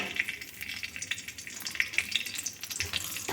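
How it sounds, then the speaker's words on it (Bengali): Panch phoron, dried red chillies and bay leaf fry together in hot oil for pumpkin chhokka, with a quiet continuous sizzle and scattered sharp crackling pops. "এগুলো সব একসাথে মিশিয়ে ভেজে নিচ্ছি"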